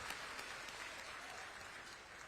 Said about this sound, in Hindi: इसके लिए भी जोरदार तालियों से मुख्यमंत्री जी का स्वागत करें।